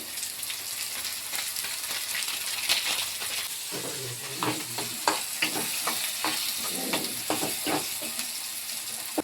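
Leftover rice ingredients for pulihora being stirred and fried in oil in a pan, a continuous close sizzle broken by frequent scraping stirs that grow busier toward the end.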